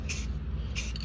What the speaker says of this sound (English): Again, distant spray. Give it that nice gold